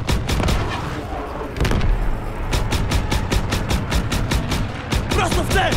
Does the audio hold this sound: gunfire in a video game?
yes